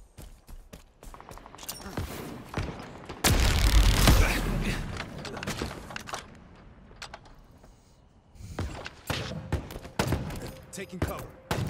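Shotgun fire in Fortnite: repeated sharp blasts and bursts of gunfire spread across the stretch, with a dense loud volley early on, then scattered shots alongside footsteps and movement noises.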